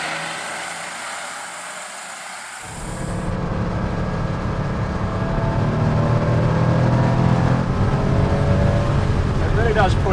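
A 1984 Porsche 911 Carrera's air-cooled flat-six starts up after a brief quiet idle and rises to a loud, steady, revving drone that fills the rest of the stretch, with no talk over it.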